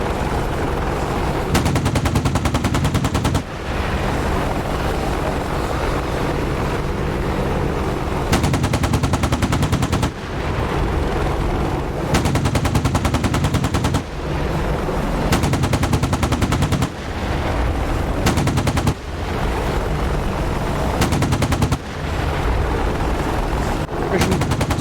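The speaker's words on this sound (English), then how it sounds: "legendary inaccuracy of the Apache cannon" Bursts of automatic cannon fire from an Apache attack helicopter in the DCS combat flight simulator, several loud sustained volleys separated by short gaps over a steady engine and rotor drone.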